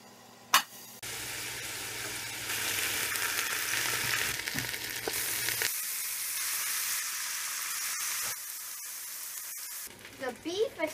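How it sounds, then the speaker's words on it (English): Onions and lamb fry and brown in vegetable oil for Welsh cawl, a loud continuous close sizzle with occasional stirring clatter, the hiss shifting in intensity and easing near the end. "Ffriwch y winwns a browniwch y cig oen."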